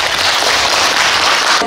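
Steady audience applause at a 2021 arts festival concert in Geumjeong, a dense wash of many hands clapping, loud and continuous before stopping abruptly.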